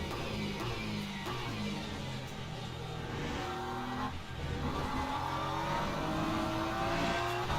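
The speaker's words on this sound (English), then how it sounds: "It's weird watching these Porsches go by." Porsche race cars in the Le Mans Ultimate racing game stream past one after another, with steady engine drones rising and falling in pitch as they pass close by, with no talk over them.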